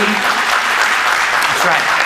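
Clapping breaks out from the audience during a lecture, a short burst of applause heard alongside talk, close and fairly loud throughout.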